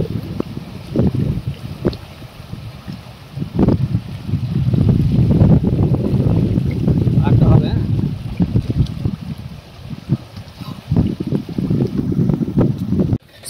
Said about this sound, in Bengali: খুব জোরে বান হয়েছে আজকে